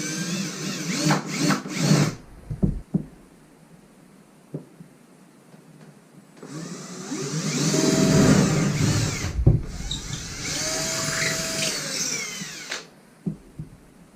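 A power drill boring a hole for a drywall anchor, two loud whirring bursts of several seconds each with a rising pitch at the end, separated by quieter handling clicks and knocks.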